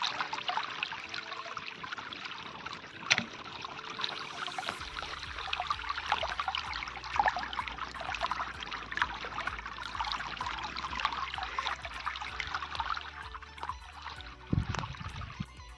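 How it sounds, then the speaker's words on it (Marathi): Water rushes and trickles continuously over a check dam in a steady broadband wash, with a low rumble joining partway through. "दुसऱ्या बांधाऱ्यामध्ये हे पाणी वाहत चाललेले आहे"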